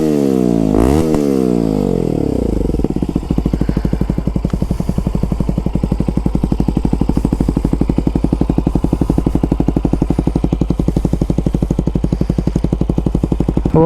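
A 2023 Bajaj Pulsar NS160 with an Akrapovic exhaust and no dB killer, revving briefly then settling into a loud, close, deep bassy idle with a rapid steady thump, no voices.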